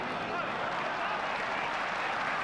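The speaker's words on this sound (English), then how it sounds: "Crowd gives him an appreciative round of applause." Rugby league crowd at a 1988 Manly Sea Eagles match breaking into a steady, wide wash of applause heard from a distance.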